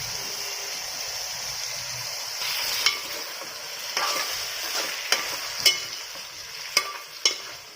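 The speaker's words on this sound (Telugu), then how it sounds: "ఉల్లిపాయ, అల్లం వెల్లుల్లి పేస్ట్ అన్నీ బాగా చికెన్ ముక్కలకి బాగా పట్టేదాకా మసాలా అంతా కలుపుకోవాలండి" Half a kilo of chicken pieces stirred in a pan with ginger-garlic paste and onion: a steady, close sizzle with several sharp scraping taps of the spoon against the pan.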